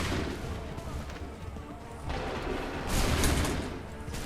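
Soldiers' musket volleys in Assassin's Creed 3 boom in rolling bursts, loud and layered with distant echoing fire and battle noise, swelling toward the end.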